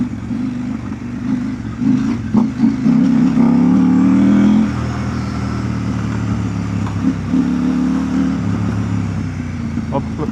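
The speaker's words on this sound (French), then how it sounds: "on est sur le couple de la moto, c'est en deuxième, en première" A KTM 890 Rally motorcycle rides off-road on a stony, rutted farm track in first and second gear, its engine a steady low-rpm drone with a brief swell of throttle, heard close and continuous.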